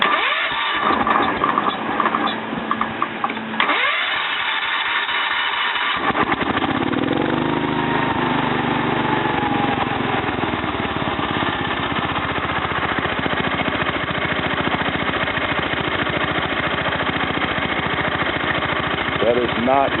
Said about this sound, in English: So let me fire it up.